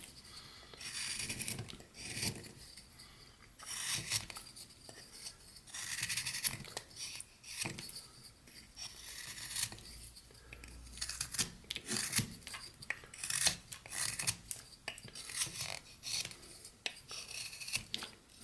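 A knife whittles a wooden head, carving the back corners with quick scraping, shaving strokes in irregular bursts, close and fairly quiet, with no talking.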